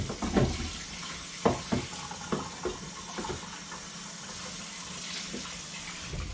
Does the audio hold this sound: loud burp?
no